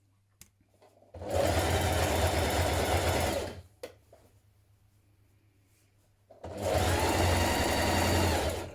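A sewing machine hems a dress in two loud, steady runs of about two and three seconds. A quiet pause with a few faint clicks separates them.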